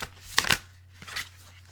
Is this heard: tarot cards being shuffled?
yes